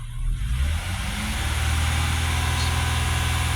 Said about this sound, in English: So I'm going to raise the RPMs.